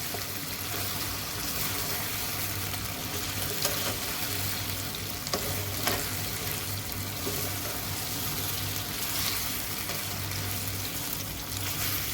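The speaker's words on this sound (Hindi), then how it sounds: "अब इसमें मैं ब्लैक पेपर और सॉल्ट ऐड कर दूंगी। इसको मिक्स करूंगी, 1 से 2 मिनट के लिए इसको पकाऊंगी।" Chicken for Peshawari chicken karahi fries with black pepper and salt, a dense steady sizzle running throughout, with occasional soft scrapes from stirring and no talking.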